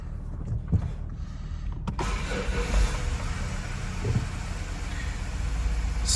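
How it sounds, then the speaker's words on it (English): A Mazda 6 Skyactiv 2.2 diesel engine cranks and starts, then settles into a steady close idle with a constant rumble, with a couple of clicks before the start. "But now let me turn on the engine and show you the live data"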